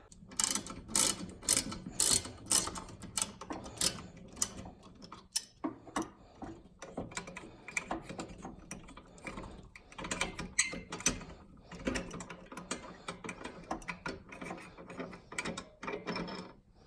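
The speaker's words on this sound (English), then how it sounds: "that is a size 10 Allen head to take off those 2 bolts. Let me take those off" A ratchet with a size 10 Allen bit backs out two bolts during parking brake work on a Porsche Boxster 986, giving rapid close clicking bursts that pause and restart, with a few metallic knocks in between.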